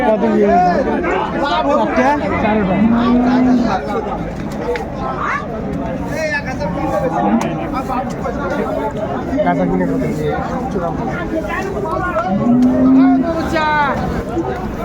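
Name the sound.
Sahiwal bulls mooing at a cattle market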